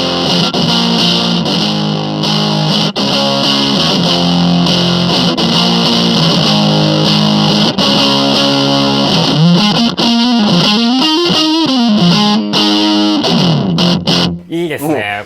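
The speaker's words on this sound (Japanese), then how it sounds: "こういうブチブチがしっかり出るのって単体でファズペダルをボードの中に置くのの魅力だと思うし" Fuzz pedal on a pedalboard, a compact DEZZYNER modeled on the DIZZY TONE with a master volume knob, driving an electric guitar with gritty, sputtering, crackling distortion; sustained loud chords give way to bending, sliding notes near the end, with no talk over the playing.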